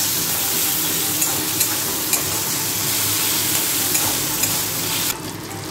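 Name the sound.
frying tomato and grated ginger in a pan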